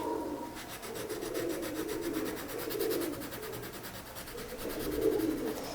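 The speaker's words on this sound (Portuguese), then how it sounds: "vou apertar bem esse lápis contra o meu papel" A coloured pencil is pressed firmly and rubbed back and forth across paper, giving a close, continuous scratchy rasp that rises and falls steadily in intensity throughout.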